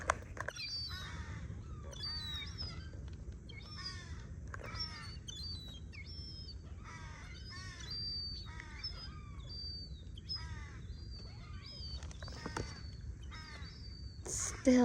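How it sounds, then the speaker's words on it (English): Seagull chicks begging for food with repeated short, rising squeaky calls in quick bursts, close and fairly faint over a low background rumble. "Oh, the chicks are still begging for food."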